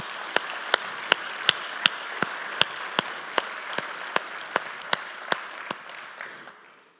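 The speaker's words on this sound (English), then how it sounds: "So please give them a round of applause." Audience at the Liferay DEVCON 2015 conference applauding, a steady wash of clapping with one sharp, evenly spaced clap standing out, fading toward the end.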